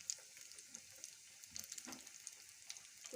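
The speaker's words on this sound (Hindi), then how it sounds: "हम डीप फ्राई करेंगे इनको" Aloo chicken tikki deep frying in hot oil over a low flame, a faint, soft sizzle with scattered tiny pops and crackles running throughout.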